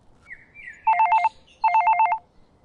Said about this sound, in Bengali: থেকে ল্যান্ডফোনটা বেজে উঠল।